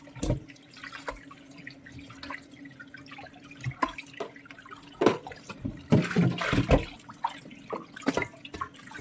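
Water splashes and drips in a sink as beef offal is rinsed by hand, with irregular sloshes and trickles growing busier toward the end.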